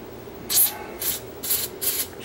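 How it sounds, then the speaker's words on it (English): WD-40 is sprayed onto a part of a Sansui SC1110 cassette deck during an overhaul: four short, close, hissing bursts spaced about half a second apart over a quiet background. "spray some WD-40 on that and just wipe it"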